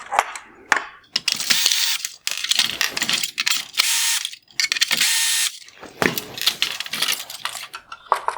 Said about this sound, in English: I'm going to remove the T20 screws holding this plastic bezel and clear lens in place